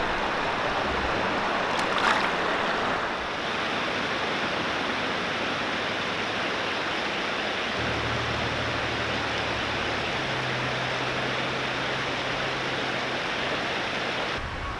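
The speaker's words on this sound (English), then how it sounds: "Sorry for the noise. We obviously got the waterfall right there." A waterfall roars steadily nearby in a creek, a dense broadband rush of falling water that stays loud and constant throughout, with a faint low hum underneath.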